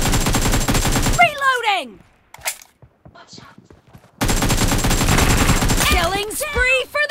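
Rapid automatic gunfire in a BGMI team deathmatch on the new Gallery map, dense loud bursts at the start, a quieter gap with a brief voice callout, then heavy continuous firing resumes with interleaved game-voice lines.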